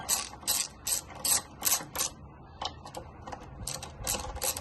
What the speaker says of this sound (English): Okay, so we've got our front wheel, 14mm, undo those